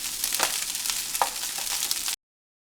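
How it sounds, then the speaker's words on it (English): Rice frying in a pan for Nigerian party fried rice gives a steady broadband sizzle with a few brief stirring scrapes, close and continuous for about two seconds before cutting to silence. "So you will continue like this until you fry all the rice."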